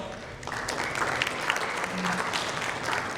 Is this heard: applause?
yes